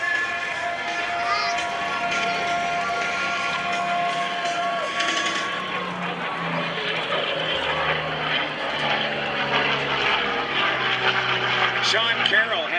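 Yak-9 World War II propeller fighter flying at an air show open house, a loud continuous engine and propeller drone rising and shifting in pitch as it passes, with a voice talking over it.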